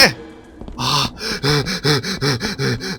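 Heavy, ragged panting from a player during a tense horror video game, The Joy of Creation: Reborn, a run of loud, rhythmic gasping breaths close to the microphone with no words.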